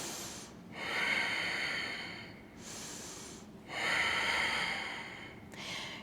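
Slow, deep breaths drawn in and out through the nose during a yoga stretch, three rising and falling breath cycles, close and fairly loud with a snorting, airy quality and no talking.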